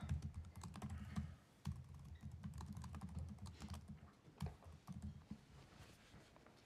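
Someone types steadily on a computer keyboard during a committee meeting, producing a quiet, continuous patter of keystrokes with short pauses, heard close and faint without speech.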